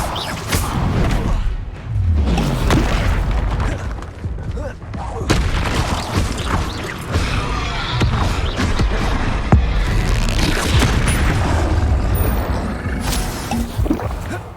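Spell explosions and combat impacts from the Hogwarts Legacy video game, booming thuds and whooshes layered densely over a loud, continuous game soundtrack, with shouted spell incantations heard during the fighting.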